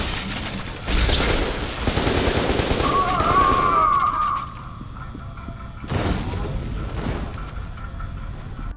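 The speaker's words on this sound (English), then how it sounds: "This weapon fires bursts of energy, and this weapon is very deadly." An energy weapon in the video game FEAR 2 fires two long, loud bursts of rapid crackling shots, the first running several seconds and the second following after a short pause.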